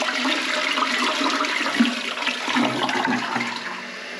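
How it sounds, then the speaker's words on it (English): A toilet flushes in a steady rushing gush of water while a Fluidmaster Performax fill valve refills the tank, close by and continuous for several seconds without any voices. "So we'll try one more flush and see what it does."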